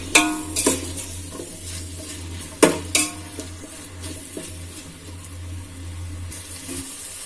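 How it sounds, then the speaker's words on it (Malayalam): Onions fry in a pan for Ambur chicken biryani while being stirred, with a steady sizzle broken by a few louder scrapes and clanks of the spoon against the pan. "നന്നായിട്ടൊന്ന് ഇളക്കി കൊടുക്കുക. സവാള നന്നായിട്ട് വഴണ്ടു വരണം."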